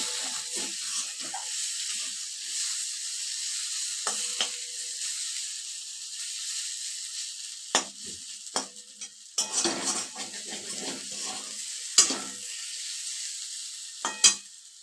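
Fish curry spices with red and Kashmiri chili powder are stirred in a frying pan, a quiet sizzle under sporadic clinks and scrapes of a spatula against the pan, growing busier toward the end.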